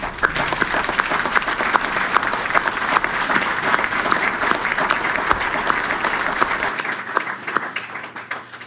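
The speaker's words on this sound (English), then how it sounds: "I think it deserves a huge round of applause" A large audience claps steadily and loudly for a World War II veteran at a Legion of Honor ceremony, the dense applause running unbroken throughout and thinning slightly near the end.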